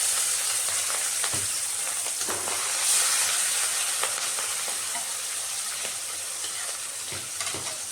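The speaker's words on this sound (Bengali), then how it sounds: "এটাকে আমি লো ফ্লেমে একটু ডিপ ফ্রাই করবো।" Fish pieces deep frying in hot oil over a low flame give a steady, close, dense sizzle with soft crackles and bubbling throughout, with no voices.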